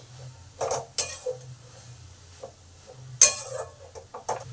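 Chopped carrot being stirred in a cooking pan for a spicy jujube puli dish, with a few sharp utensil scrapes and clinks against the pan over a low steady background hum.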